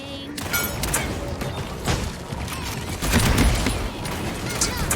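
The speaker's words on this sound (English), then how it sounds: "I think I hear the Koga shooting over to the right." Rapid bursts of gunfire from the character Koga in the video game Paladins, sustained and fairly loud, blended with other combat noise and occasional thuds throughout.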